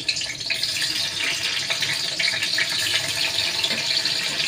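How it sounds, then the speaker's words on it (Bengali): Tomatoes dropped into hot oil with whole cumin seeds while cooking dhoka, giving a steady loud broadband hiss and sizzle that continues throughout without any voices. "তেলের মধ্যে এবারে টমেটোগুলো দেব।"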